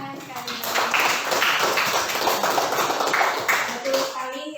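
A class applauding together, a dense patter of many hands clapping steadily for several seconds with talk over it.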